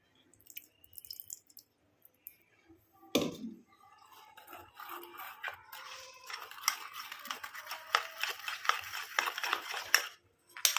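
A spoon clinks and scrapes in a small bowl, mixing milk into face pack powder. Wet stirring and tapping start after a sharp knock, then keep a quick, close, irregular rhythm.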